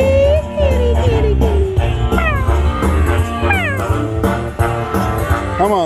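Cat meows from a Miss Kitty slot machine in a Las Vegas casino, several drawn-out and pitch-bending mews over busy jingling game music and casino clatter, loud and close.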